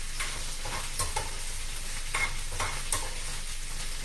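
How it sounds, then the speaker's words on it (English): Mushrooms frying in a pan while being stirred during risotto making, with soft scraping strokes every second or so over a constant low sizzle, fairly quiet and with no voices. "I need to give my mushrooms a stir as well"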